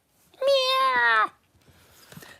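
A domestic cat lets out a single loud, drawn-out meow close by, followed by quiet rustling.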